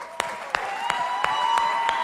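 A church congregation at a worship service claps in a sparse, regular beat of sharp hand claps, moderately loud over a sustained tonal background.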